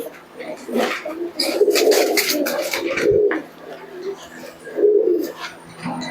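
Desi Giribaj pigeons coo repeatedly at close range, low throaty rolling calls coming in several bursts over a steady backdrop of softer bird chatter.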